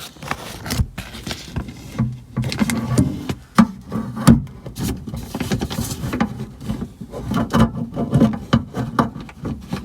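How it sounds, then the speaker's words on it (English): Irregular metallic rattling and scraping close by as a key is jiggled in a Mazda MX-5 door lock that won't unlock, with soft clicks and rubs. "I'll show you exactly what I'm jiggling in order to unlock the car door."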